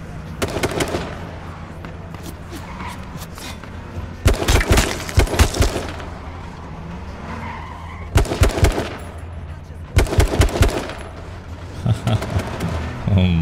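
Gunfire in an H1Z1 King of the Kill match comes in several sharp bursts of shots spread across the stretch, loud and close, with quieter game noise in between.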